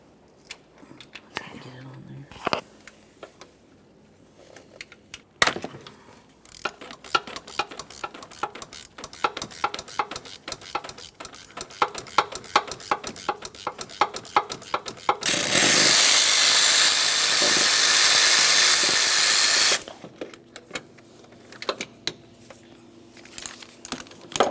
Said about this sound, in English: I'll be using a swivel socket for this.